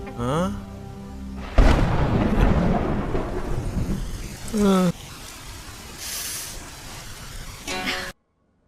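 In a scene from the Telugu film Aawara, a loud close thunderclap bursts in and rumbles over steady rain, which keeps falling while people speak at intervals before the sound cuts to silence.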